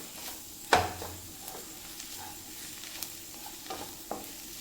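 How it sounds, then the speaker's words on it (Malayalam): Onion and spices with garam masala and ground pepper sauté for a Kerala-style beef roast, a soft, low sizzle punctuated by a sharp utensil clank near the start and a few lighter stirring scrapes. "ഗരം മസാല ചേർത്ത് കൊടുത്തു കുരുമുളക് പൊടി ഒരു ഒരു സ്പൂണ് ചേർത്ത് കൊടുത്തു നന്നായിട്ടൊന്ന് വഴറ്റിയെടുക്കണം"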